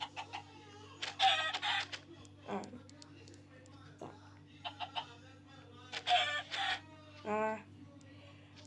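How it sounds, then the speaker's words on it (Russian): A chicken in the Minecraft video game clucks in short, scattered bursts over a quiet electronic hum, with someone talking briefly. "Ну, давайте курицу."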